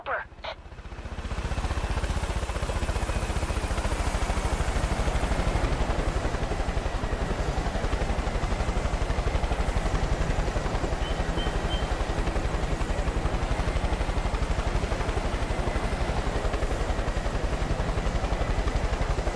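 A helicopter in the game Far Cry 5 roars with a steady, loud rotor and engine drone that starts abruptly after a brief knock and holds unbroken, with no voices over it.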